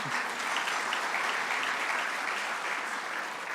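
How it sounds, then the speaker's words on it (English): Steady audience applause at a 2024 State of the City address, welcoming a junior hockey head coach, a dense and even wash of clapping that holds at one level throughout, with no speech over it. "Round of applause for that."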